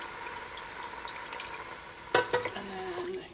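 A spoon scrapes the bottom of a pot to lift browned beef bits after about a cup of beef broth goes in, giving a few brief, close scraping strokes over a soft background simmer and sizzle.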